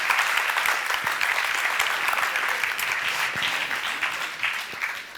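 Graduating engineers and guests clapping in an amphitheatre at the ESTP class of 2020 diploma ceremony, a sustained, even wash of applause from a large crowd that gradually thins toward the end, with no voices over it.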